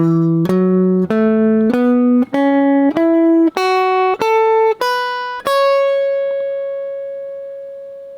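Electric guitar notes climb one at a time through a pentatonic scale pattern, ten evenly spaced plucks, with the last note left ringing and slowly fading.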